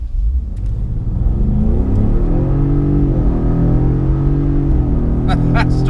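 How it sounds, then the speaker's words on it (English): A Ford Raptor pickup launching at full throttle in two-wheel drive, its engine a loud, continuous roar that climbs steadily in pitch as the truck accelerates hard, with a brief chirp near the end. "for this first run, we're gonna keep it in 2-wheel drive and just floor it."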